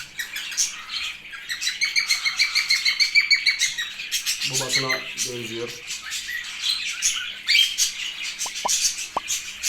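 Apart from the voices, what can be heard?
budgerigar chicks chirping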